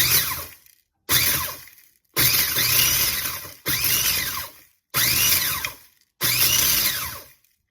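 An electric spice grinder whirring in six bursts, each a few seconds long with brief silences between, the blades rattling loudly against hard pieces.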